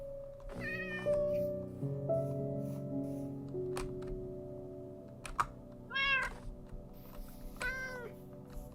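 Minecraft video game cats meowing: three or four clear, separate meows spaced across the stretch, loud and close, over steady background game music with no talk.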